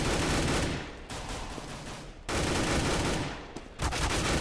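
Rapid M4 rifle bursts in Counter-Strike on the de_train map, a professional ESL One Cologne 2014 match, with sustained loud gunfire broken by two short pauses and no talk over it.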